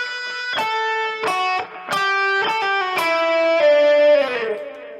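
Distorted electric guitar plays a riff phrase, sustained gritty notes broken by quick picked changes and finishing on a held bending note, loud and upfront with no voices.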